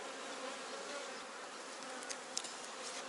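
Honeybees buzzing around an opened queen cell in a hive, a steady close-up drone filling the whole clip with a couple of faint clicks and no talk.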